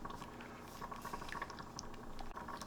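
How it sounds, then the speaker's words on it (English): Water bubbling and trickling steadily inside an AeroGarden as its pump circulates it, a soft continuous burble with small drips, close and quiet. "that water's circulating through the pump, it's circulating around in there"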